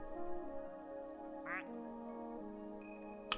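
Ducks quack in a short burst of nasal calls while a steady tonal drone hums underneath.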